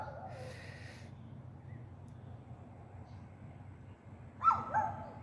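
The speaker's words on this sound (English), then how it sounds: "Y'all hear my neighbor's dog?" A neighbor's dog barks and whimpers in a front yard, starting faintly under low background noise and then rising in a couple of louder yips near the end.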